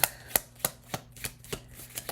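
Cards are riffled and snapped in a quick, steady series of crisp slaps, close up, about eight in two seconds with no talking.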